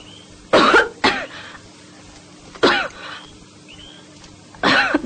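Three separate bursts of coughing, each a harsh, loud cough or pair of coughs with quieter gaps between them. A smoker is coughing with no speech over it.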